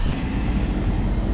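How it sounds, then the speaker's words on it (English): Lisbon's Tram 28 rumbles past nearby on its rails, a loud, steady low roar of wheels and motor with no break. "Let's get on the tram. It's called Tram 28."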